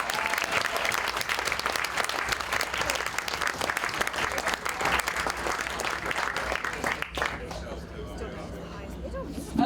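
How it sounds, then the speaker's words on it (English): Sustained audience applause for a magician at a comedy magic show, loud and dense clapping for about seven seconds before fading into a quieter room murmur. "Give her a huge round of applause."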